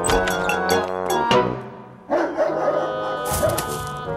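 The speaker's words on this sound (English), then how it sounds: "Let's deal with the guard dogs." Guard dogs barking in a quick run of sharp close barks, a brief pause, then more barking with yips and whimpers layered over a background of other sound.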